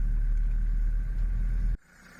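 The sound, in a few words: Mercedes T1 van engine idling while parking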